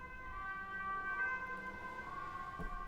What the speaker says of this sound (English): Sorry, it's an ambulance.